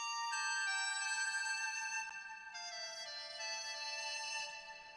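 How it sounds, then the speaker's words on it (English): A dizi Chinese bamboo flute from the free Kong Audio Chinese Winds instrument plays long sustained, breathy melodic notes with gentle pitch bends, clear and alone. "it's Kong Audio Chinese Winds. It's a Diza, one of my favorite flutes."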